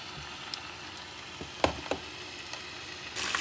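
Fish frying in vegetable oil over medium-high heat, a faint steady crackle and sizzle with a few sharper pops, close by with no talking.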